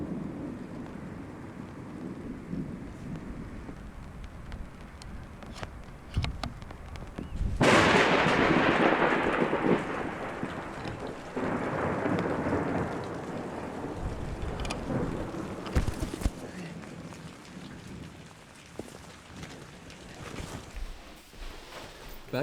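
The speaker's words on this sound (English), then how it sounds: "the rain has finally caught up to me" An outdoor thunderstorm rolls in as steady rain patters, then a sudden loud crack of thunder breaks out and rumbles on for several seconds before fading back under the continuous rain.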